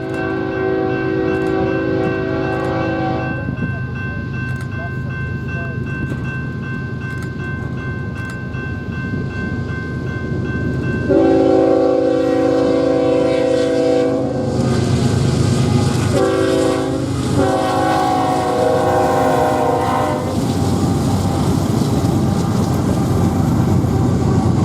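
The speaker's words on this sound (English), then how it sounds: "After 6528 cleared the main, BNSF 6857 started moving again." BNSF freight train 6857 gets rolling on the Southern Transcon main line, its loud multi-tone air horn sounding in several long blasts over a heavy, continuous rumble of engines and rolling cars.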